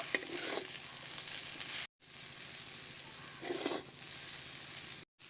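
Chowmein with fried egg is stirred in a hot pan with a metal skewer, giving a soft, steady sizzle with scraping stirs that swell twice, broken by two brief silences.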